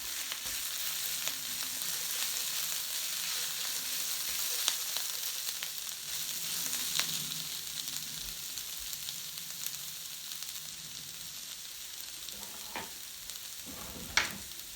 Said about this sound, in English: And I will just keep stirring